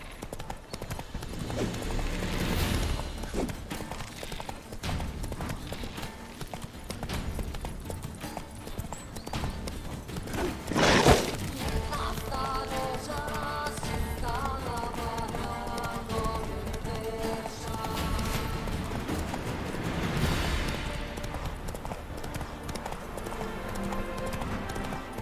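Roach the horse galloping in the video game Witcher 3, steady rhythmic hoofbeats running throughout with a brief louder burst midway and a voice talking at times.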